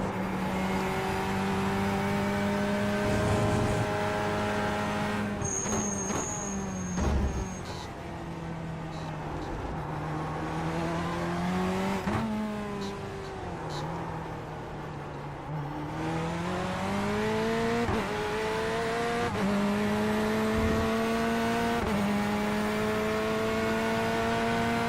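A race car engine in a racing video game drones steadily, its pitch rising and sagging repeatedly as the car slides and slips around the track, with a few brief sharp clicks over the continuous engine tone.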